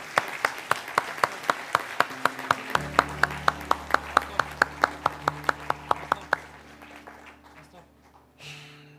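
A church congregation claps in a steady, evenly spaced rhythm, around two dozen beats, then the clapping stops and leaves a low hum and room noise.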